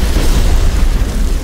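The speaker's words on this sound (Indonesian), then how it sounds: "Sini ada petir di sini bro" Deep rolling thunder in a video game fills the whole moment, a loud, continuous low-end boom with no voices over it.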